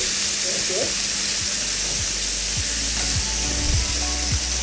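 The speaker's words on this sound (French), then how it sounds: "Donc là, on est en train de dorer." Seasoned meat browning in a pan, giving a steady, loud sizzle and crackle throughout with occasional scraping from stirring.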